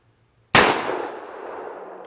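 A single .357 Magnum revolver shot fired at an automatic watch target outdoors, one sharp loud blast with a ringing decay of about a second and a half, no voices.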